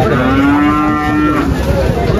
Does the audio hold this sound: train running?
no